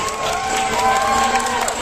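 Parents and guests at a EuroKids preschool graduation and annual day fill the hall with applause and cheering, a loud continuous crowd roar with clapping and mingled voices.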